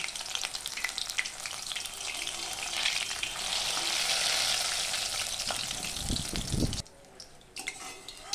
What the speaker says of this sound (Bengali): বেসনে ডুবিয়ে একটু এরকম করে উঁচু করে ধরে এরকম একটু ঝরিয়ে এবার আমি একটু কম কম করে ভাজবো